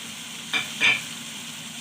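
A spoon stirs a béchamel pasta filling in a pan, with a soft steady sizzle and two brief scraping strokes. No one talks.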